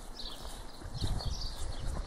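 A horse walks during a liberty training clinic, its hooves clip-clopping faintly and irregularly on the ground over two seconds, with light background noise and a faint bird-like chirp.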